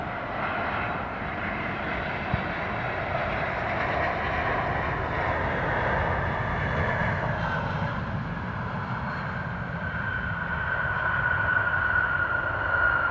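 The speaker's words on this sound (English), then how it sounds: "Not the smoothest landing" Frontier airliner on its landing rollout at Austin Bergstrom after a flight from Denver, a steady broadband jet roar with engine whine that holds loud and continuous, swelling slightly near the end as the plane slows.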